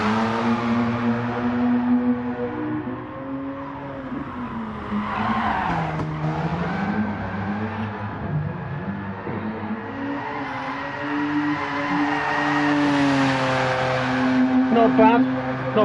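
Car tires squealing and skidding through a drift in the racing game Gran Turismo Sport, a long wavering screech that rises and falls with the slide, over the steady drone of a revving engine.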